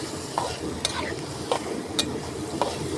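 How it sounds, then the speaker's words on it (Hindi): Mutton sizzles and fries in ghee in a village kitchen, a steady hiss under repeated scraping stirs of a utensil against the pan, with a voice murmuring faintly in the background. "ये इस तरीके से इसको घी में भूनना है"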